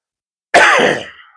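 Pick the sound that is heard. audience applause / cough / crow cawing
cough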